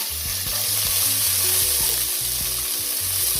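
Scallion and thyme sautéing in oil in a pan for Jamaican vegetable rice, a loud continuous sizzle up close with a faint rhythmic low pulse beneath it.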